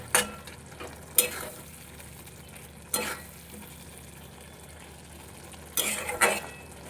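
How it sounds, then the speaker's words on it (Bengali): Potatoes with poppy seed paste cooking in a pan on low heat: a gentle steady sizzle with a few scraping stirs of a utensil against the pan, close and moderately loud, no talking. "এবারে আঁচ কমিয়ে কিছুক্ষণ রেখে দেবো তাহলে আলুগুলো খুব ভালোভাবে সেদ্ধ হয়ে যাবে"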